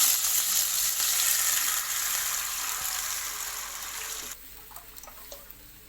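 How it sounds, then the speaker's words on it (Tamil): Wheat flour sizzles and fries in ghee while being stirred, giving a steady, fairly loud crackling hiss for several seconds that drops abruptly, leaving faint scraping and stirring clicks. "இதே நெய்யிலேயே நம்ம வந்து கலந்து வச்சுருக்க கோதுமை மாவை சேர்த்துக்கலாம்"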